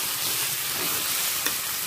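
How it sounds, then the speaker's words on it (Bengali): Drained taro leaves being mixed into hot oil in a pan, a steady loud sizzle and hiss with a faint stirring scrape and one brief clink near the end. "জল ঝরানো কচু শাক। তেলের সাথে ভালো করে মিশিয়ে নেব।"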